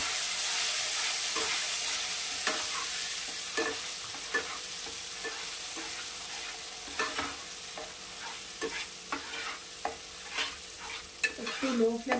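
Tomato, cashew, ginger and green chili paste frying in a pan over a low flame, a soft continuous sizzle broken by scraping stirs that grow more frequent toward the end.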